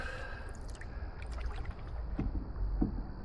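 A canoe or kayak is paddled on water, snagged in floating growth, with soft splashing strokes and low gurgling over a quiet outdoor backdrop. No voices.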